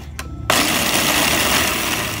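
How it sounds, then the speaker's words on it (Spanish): A food processor whirring loudly as it chops a small onion for a Colombian-style picnic cabbage salad, the motor starting abruptly after a short pause and running steadily to the end, with no talking. "pues vamos a pasar la cebolla al procesador"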